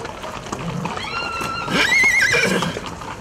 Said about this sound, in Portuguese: estão os cavalos, marcando passos sobre o asfalto, trazendo um som diferente para a rotina urbana